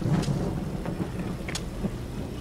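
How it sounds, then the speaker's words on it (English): Heavy rain falls over a small island sandbar as a steady, fairly faint hiss. Low thunder rumbles under it with a few sharp cracks. "It doesn't look like this rain is going to let up"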